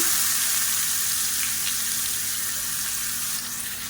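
Finely chopped onion fries in hot oil in a pot with a constant, close hiss and a faint low hum underneath; no voices.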